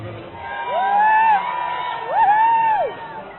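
Enthusiastic crowd at a Weta Workshop event, with swelling whoops and cheers in two loud surges, voices rising and falling over a steady murmur.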